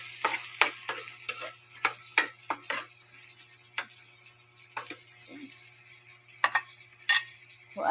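Bitter gourd (ampalaya) goes into a pan with shrimp and is stir-fried, with a run of sharp spatula clicks and scrapes against the pan over a faint steady frying hum, then sparser taps.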